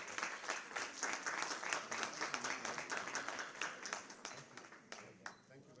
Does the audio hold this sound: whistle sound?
no